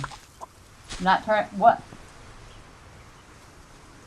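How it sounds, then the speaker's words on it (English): A chicken clucks in a short burst of three or four close clucks in the cozy survival video game Solarpunk, standing alone over a quiet game background, with a brief voice heard just before. "Oh my god, it's a chicken!"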